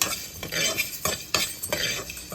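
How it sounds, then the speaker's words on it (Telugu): Cumin and fresh coconut roasting in a cooker while being stirred, heard as a close hiss broken by three or four sharp scraping strokes of a utensil against the metal. "ఇదిగా జీలకర్ర అయితే వేస్తున్నాను పచ్చి కొబ్బరి ఇది కూడా వేస్తున్నాను మొత్తం కలిపి ఒకసారి వేపుకోవాలి"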